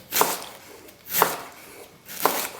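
Three evenly spaced knife chops strike a cutting board, crisp and close, each with a brief crunchy slice through leafy vegetable.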